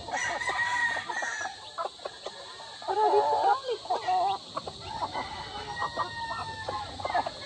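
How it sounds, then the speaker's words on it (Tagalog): Asil upgraded native chickens and young chicks on a farm, with repeated clucking and crowing calls nearby and a voice talking over the birds. "So ito naman yung asil na upgraded native yan mga ka-farmers"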